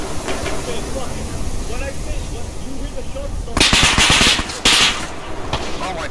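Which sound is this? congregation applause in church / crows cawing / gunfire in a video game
gunfire in a video game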